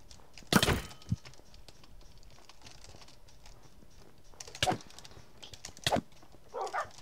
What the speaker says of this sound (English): Oh my god, all these dogs.